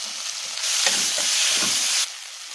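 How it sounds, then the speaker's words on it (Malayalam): Tomatoes and onions for an egg curry sizzle steadily in a hot pan, a broadband hiss that swells loud for about a second and a half with a few soft stirring scrapes underneath, then eases back. "തക്കാളിയും കൂടെ ചേർത്ത് രണ്ട് മൂന്ന് മിനിറ്റ് ഒന്ന് വഴറ്റിയെടുക്കാം"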